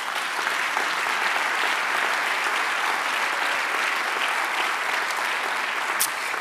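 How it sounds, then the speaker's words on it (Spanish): A church congregation claps steadily and loudly throughout, a dense, unbroken wash of many hands with no speech over it. "Dale un aplauso al Señor."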